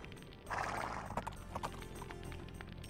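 Horse hooves in the video game Age of Empires: Rise of Rome, a short run of clip-clop hoofbeats rising from a quiet start into a brief trot, fairly soft, with no talking.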